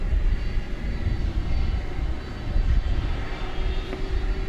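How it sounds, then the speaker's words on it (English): UPS Boeing 767 jet at DFW Airport produces a steady, low, rumbling roar that stays at moderate distance throughout, with no talking over it. "Be a 767 going to San Antonio, Texas. UPS flight 5798."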